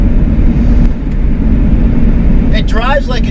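A Japanese right-hand-drive Jeep Cherokee on the road, a steady low engine and road rumble heard from inside the cab, with a voice briefly starting near the end.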